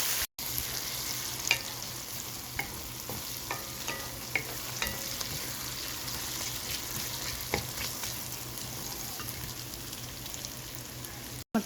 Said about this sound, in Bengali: পেঁয়াজটা বাজা হয়ে আসছে